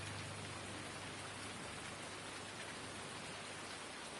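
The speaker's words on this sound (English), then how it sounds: "It's got to be because it's raining" Rain falls in the Farming Simulator 19 farming game as a soft, steady, even wash of drops on surfaces, continuous and fairly faint with no other sounds.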